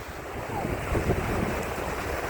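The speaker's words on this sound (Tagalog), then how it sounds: "Medyo malalaki ang alon" Continuous rushing ocean surf mixed with blustery wind noise, a broad steady roar with no talking.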